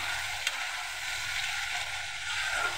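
Two pieces of rohu fish frying in hot oil with cumin, a steady close sizzle with a faint clink or two and no voices.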